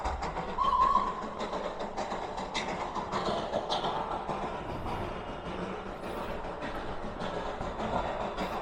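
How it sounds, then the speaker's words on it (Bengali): The Darjeeling toy train rumbles past on a steep hill road, a continuous rolling clatter of wheels and wagons at moderate distance, with some road traffic in the background. "এখন ওখান দিয়ে টয় ট্রেনটা যাবে,"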